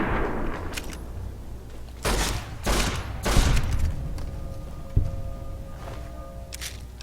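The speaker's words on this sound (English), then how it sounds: "Oh, it's a BB gun." A BB gun fires in the Fallout: New Vegas video game as a few sharp, punchy shots in irregular bursts, with quieter clicks and thuds between them.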